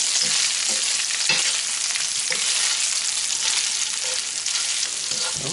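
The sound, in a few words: bacon frying in a pan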